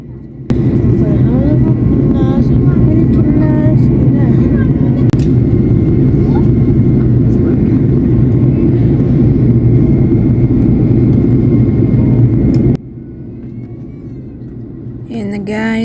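An airliner lands, heard from inside the cabin as a loud, steady low engine rumble and roar that drops off abruptly near the end, with faint background chatter.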